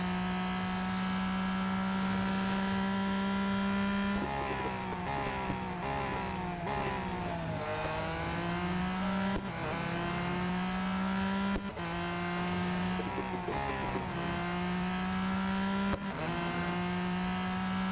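A race car engine in the Real Racing 3 video game screams loud and close throughout, with repeated rising revs and quick shifts. Sharp drops mark the gear changes and braking, and no one talks over it.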